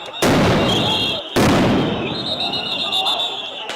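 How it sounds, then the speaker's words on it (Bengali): Police sound grenades thrown at a street protest march go off in two loud, sharp blasts about a second apart, each trailing into a long rumbling crowd roar with distant shouting. "পুলিশ হিজবুত তাহরীরের মিছিলটি থামিয়ে দিতে সেখানে কাঁদানো গ্যাস এবং সাউন্ড গ্রেনেড নিক্ষেপ করে"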